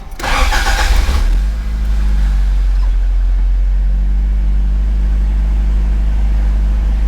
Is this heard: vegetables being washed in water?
no